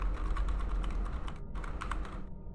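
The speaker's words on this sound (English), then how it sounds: "I'm pushing every key on my keyboard." Rapid, irregular clatter of many keys being pressed on a computer keyboard while playing a horror game, close and fairly quiet over a steady low background hum, with no talk.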